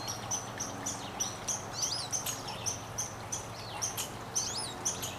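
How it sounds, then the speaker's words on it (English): Several small birds chirp and tweet from evergreen trees around a backyard nature area, with short, high calls repeating throughout over a low, steady outdoor background. "you can probably hear a few of the birds right now sitting up in the evergreens"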